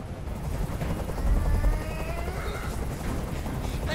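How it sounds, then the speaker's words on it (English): Helicopter rotor noise in the video game Detroit: Become Human, a steady low rumbling drone with a thudding swell partway through, continuous and fairly loud throughout. "I can't stand that noise anymore. Tell that helicopter to get out of here."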